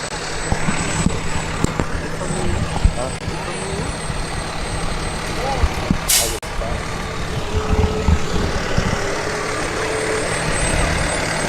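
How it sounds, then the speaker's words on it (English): A volunteer fire department ladder truck rolls past in a Christmas parade, its engine a steady broad rumble mixed with crowd noise and a brief hiss midway, carried at moderate distance throughout. "Santa Claus, riding atop the Oneida Volunteer Fire Department. Ladder truck number 1."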